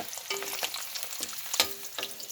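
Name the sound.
eggs frying in a pan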